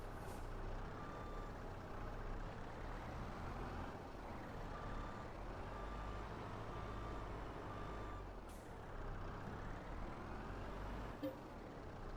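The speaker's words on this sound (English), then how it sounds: "that truck's heavier than the usual" A heavy farm truck runs steadily with a deep, loud low-end rumble across the whole stretch, brief hissing bursts like an air brake near the middle and end, and faint reversing beeps under it.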